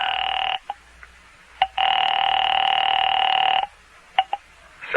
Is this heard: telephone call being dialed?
yes